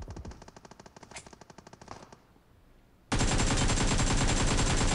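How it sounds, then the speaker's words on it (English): Rapid automatic gunfire in a mech-mode battle royale video game, a fast burst of repeated shots followed by a short lull, then a loud, dense, continuous barrage with no talk. "apparently there's a mech fight going on right outside"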